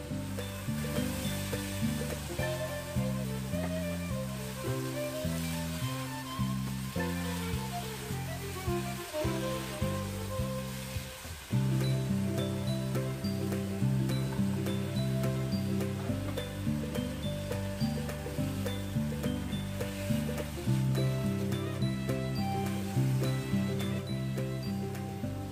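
Sweet baby corn and egg whites stir-fry in a pan with softened spices, a steady sizzling hiss with occasional stirring scrapes, heard under background music throughout.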